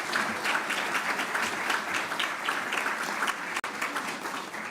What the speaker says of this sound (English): Would everyone give him a big round of applause?